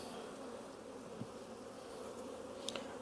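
Honeybees in an open hive, checked during a split with queen cells present, fill the air with a steady, soft, dense buzz close by and no voices.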